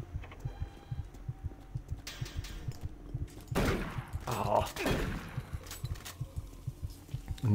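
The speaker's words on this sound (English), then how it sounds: "And I can hear my heart beating." A slow, steady, low thumping heartbeat in the video game Doom 3 pulses throughout, with a louder burst of gunfire and noise partway through.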